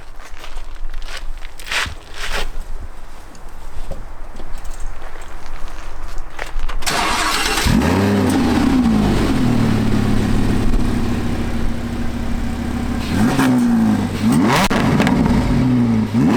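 A rented car, apparently an Audi R8, starts and its engine revs loudly and close by, with rising and falling roars after a quieter stretch of rustling and footstep-like sounds.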